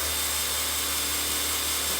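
Power drill spinning the oil pump of a small block 350 engine in a C3 Corvette restoration to prime the rockers, a steady close whine running without pause.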